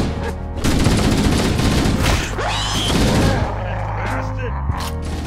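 Gunfire in Halo: Combat Evolved crackles in bursts of rapid shots and thumping booms amid game sound effects, with a voice talking over the action.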